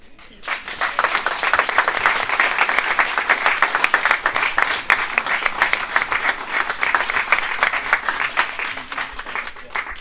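A crowd applauds at the launch of the SUP Planet Earth Foundation, a sustained round of dense, close clapping building quickly and holding steady for several seconds.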